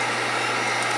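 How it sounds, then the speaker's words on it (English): A heat gun blowing hot air to dry paint on a crankbait lure, a steady, close, continuous whooshing hum with no pauses. "in my case, I use a heat gun"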